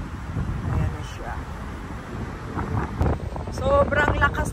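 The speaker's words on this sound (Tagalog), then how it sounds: "Sobrang lakas ng hangin." Strong gusting wind buffets the microphone near the Golden Gate in San Francisco, a continuous rumbling roar with a voice and other sounds faintly underneath.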